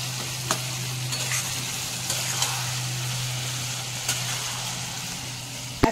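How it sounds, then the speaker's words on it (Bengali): Garlic and ginger fry in a pan with a steady, soft sizzle, broken by a few light scrapes and clicks of stirring, and a low hum runs underneath throughout. "এগুলোটাকে কিছুক্ষণ ভাজা হোক, কাঁচা গন্ধটা চলে যাক, রসুন আর আদার কাঁচা গন্ধটা চলে যায়"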